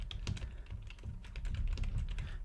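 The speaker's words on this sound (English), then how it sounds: "I can just type it in" Quick, steady tapping of keys on a computer keyboard while an email address is entered, quiet and close with no talking.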